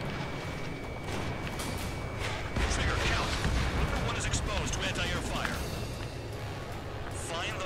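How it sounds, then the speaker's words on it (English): Anti-air fire in Ace Combat 7 thunders in a dense, continuous barrage of booms and bursts around a jet, with radio chatter and talk layered over the roar. "Number one is exposed to anti-air fire."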